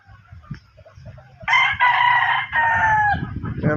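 Netted backyard gamefowl roosters let out a loud, sustained crow over a low farm hum, with more clucking and rustling at the end.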